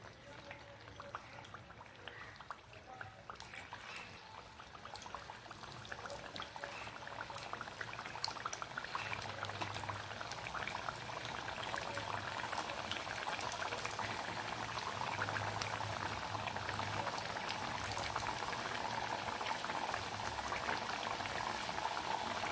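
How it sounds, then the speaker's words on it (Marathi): Rava medu vada deep fry in hot oil over a low flame, giving a steady, dense sizzle and bubbling that holds at an even level throughout. "तेल आता आपलं गरम झालेलं आहे। त्याच्यात आपण मेदूवडे सोडूया।"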